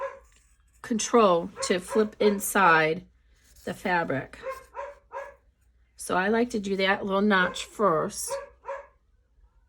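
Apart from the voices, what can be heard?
dog barking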